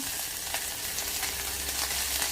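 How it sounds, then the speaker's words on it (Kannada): Chopped onions fry in hot mustard oil inside a cooker, giving a steady, close, continuous sizzle with light crackles throughout and no voices. "ಈರುಳ್ಳಿನ ಸ್ವಲ್ಪ ಫ್ರೈ ಮಾಡ್ಕೊಳ್ಳಿ."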